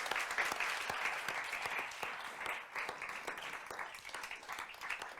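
An audience at an art gallery conversation event applauds warmly, a dense, continuous wash of clapping from many people that runs steadily for several seconds before easing slightly.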